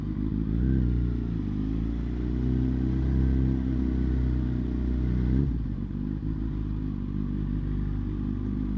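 A motorcycle rides through traffic, its engine a loud, continuous close-up drone with slight rises and dips in pitch and a brief shift in tone as the rider changes speed.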